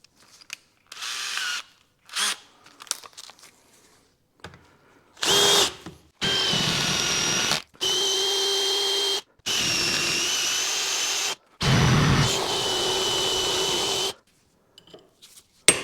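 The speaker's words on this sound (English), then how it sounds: "We'll probably need to drill out these rivets here." A power drill drilling out rivets on a BMW E46 flex disc whirs in repeated steady bursts of a few seconds each, close by, with brief clicks and handling noise between runs.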